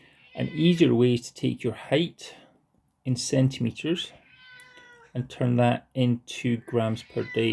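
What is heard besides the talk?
cat meowing in the background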